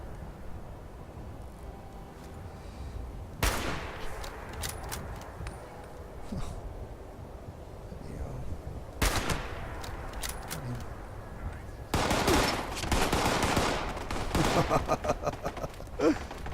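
Gunfire in the video game Fallout 76: rapid bursts of shots ring out in three clusters, the last one long and dense, over a low game ambience.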